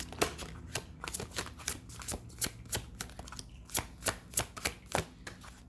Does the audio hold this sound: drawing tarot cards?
yes